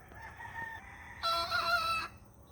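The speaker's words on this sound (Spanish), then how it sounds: "Y ya mismo el gallo canta." A young rooster crows once in the countryside at a farm barn, a strained, rough call that rises loud and close after soft background clucking.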